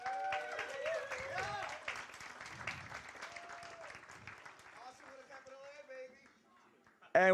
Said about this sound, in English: Can we have one round of applause for the competitors?